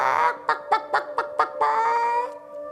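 A girl imitates a chicken with her voice, giving a drawn-out squawk and then a quick run of five clucks before a longer, wavering call, loud and close.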